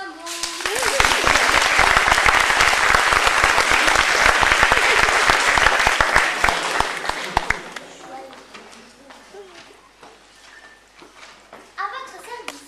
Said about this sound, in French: On applaudit madame.